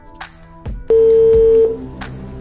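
A phone dialed to place a call during a game show, a few short tone blips followed by a long steady dial tone, loud and close, then quieter clicks.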